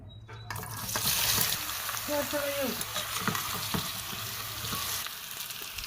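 Jackfruit pieces fry in hot oil in a wok, giving a loud, steady sizzle with occasional stirring clinks and scrapes and no talking.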